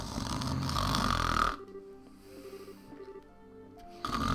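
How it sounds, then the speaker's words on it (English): Snoring in the video game Legend of Heroes: Trails in the Sky, a loud rumbling snore inhale, a quieter breathy exhale pause, then the next snore starting. "Could have sworn I heard a snore and a snore"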